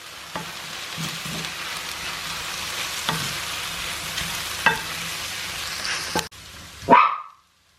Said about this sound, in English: Just adding the olives. These are kalamata olives which have taken the stones out.